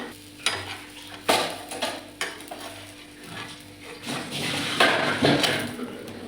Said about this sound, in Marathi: आता दुसरी बाजू पण व्यवस्थित भाजून घ्यायची.